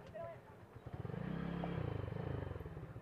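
A motorcycle engine in a parking lot idles and revs close by, its rapid pulsing throb rising over a couple of seconds after brief clatter, with a voice speaking faintly at the start.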